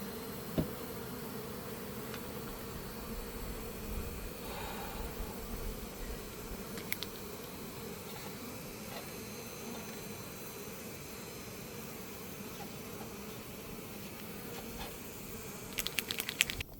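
Honeybees buzz around an open beehive under a tree in hot weather, a steady, soft, close hum with scattered light clicks and taps from handling the hive, with no talking.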